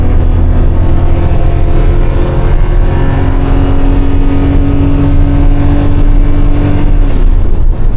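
A Daihatsu Mira kei car with a three-speed automatic pulls hard along a straightaway, its small engine droning loudly and steadily from inside the cabin as the pitch climbs slowly, then eases off near the end.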